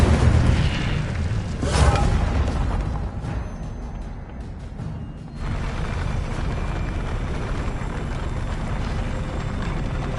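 An Incendio fire spell cast in Hogwarts Legacy lands as a loud burst with a whooshing roar of flame, followed by a steady rumbling of game effects.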